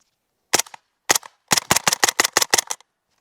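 A suppressed MP5 SD fires supersonic and subsonic rounds as two single shots followed by a quick string of seven or eight, each a sharp, close, muffled crack with no talk.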